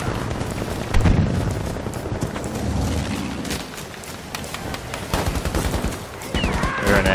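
Sniper and rifle gunfire across a hill in a video game battle, repeated sharp cracks and booms at irregular intervals over a dense rumbling background, some shots near and loud, others distant.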